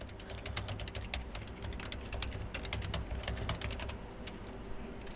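Keys clatter on an HP 255 laptop keyboard as an email address is typed, a quick, uneven run of close, light taps that pauses briefly near the end.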